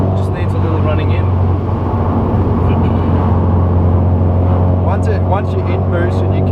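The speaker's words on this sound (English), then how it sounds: "The turbo sound's growing on me." Turbocharged car engine while driving, a loud continuous low hum with road rumble throughout, and people talking over it.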